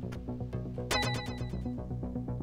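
A telephone rings in the video game Shakedown Hawaii, a steady run of bright electronic ring pulses layered over busy game music, with no talking.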